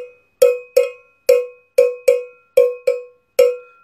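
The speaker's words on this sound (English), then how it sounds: "There we are, a cowbell!" Handheld cowbell struck nine times in an uneven rhythm, each loud, bright metallic clank ringing briefly before fading, close up with no talking.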